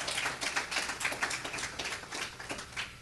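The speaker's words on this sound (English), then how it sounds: "Give God a hand clap if you believe in him tonight." A congregation clapping hands at a Sunday evening church service. The claps are faint and scattered, an irregular patter of many hands with no voices over it.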